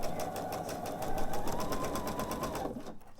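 A sewing machine stitches quilt pieces for a candy dish pillow with a steady, close mechanical whir and rapid needle chatter, running continuously before cutting off just before the end.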